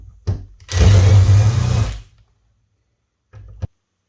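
A cordless screwdriver or drill removes screws from a doorknob, with one sustained whirring run of under two seconds followed by a short second burst, loud and close with no talk.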